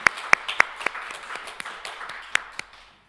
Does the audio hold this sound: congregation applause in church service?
yes